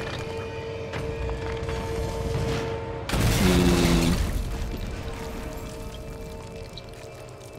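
Water spilling and gushing in the flooding underwater city of Rapture in the video game Bioshock 2, a dense continuous rush with a sudden loud surge midway and low rumbling game effects.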